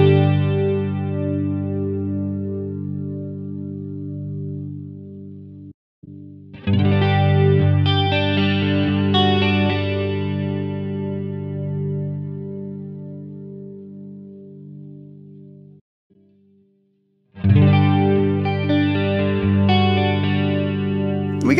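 Electric guitar through a Helix with stereo chorus placed before the amp rings out with a lush, shimmering effect, chords sustaining long and full, separated by a couple of brief silences.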